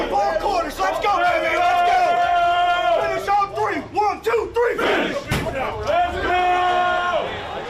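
A college football stadium crowd roars and cheers as the Kentucky team takes the field, loud sustained shouting swelling and surging in waves with a few sharp bangs mixed in.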